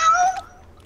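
A person imitates a cat's meow with one short, high, close vocal cry that fades quickly.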